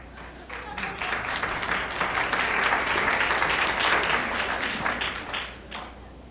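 A lecture audience breaks into steady applause, many hands clapping together in a dense, even wash that holds for about six seconds before tapering off slightly at the end.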